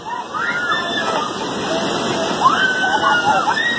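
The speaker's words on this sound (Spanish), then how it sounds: "Miren nada más el poderío del río que se está." A powerful flooded river current sweeps a pickup truck away, its water rushing and sloshing loudly and steadily throughout while voices are heard over it.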